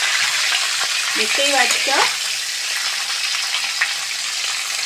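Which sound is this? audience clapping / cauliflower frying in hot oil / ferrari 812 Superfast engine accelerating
cauliflower frying in hot oil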